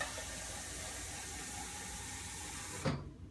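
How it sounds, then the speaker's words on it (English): Water pours steadily into a cooking pot for soup, a continuous rushing splash that stops abruptly near the end. "we're gonna fill it up with half a cup of water"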